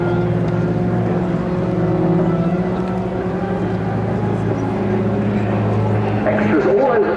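Extra 330LX aerobatic propeller planes of the Royal Jordanian Falcons perform a flying display at RIAT 2025, their engines a loud, steady drone. An announcer talks over the sound.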